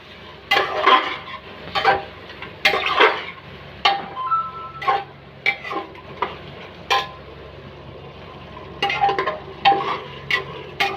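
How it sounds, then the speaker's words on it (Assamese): A spoon scrapes and knocks against a pressure cooker as goat meat fries with softened tomatoes, giving irregular clinks and scrapes with quiet pauses between them over a faint, low sizzle. "ধুনীয়াকৈ ভাজিব লাগিব অকণমান টাইম।"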